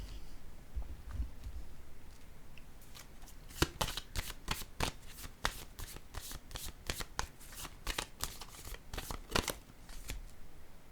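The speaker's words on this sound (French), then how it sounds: "Je vais déposer une autre carte ici." Tarot-style cards handled during a card reading, heard as a rapid, crisp run of papery slaps and flicks as cards are laid down, close and fairly quiet over a faint background hiss.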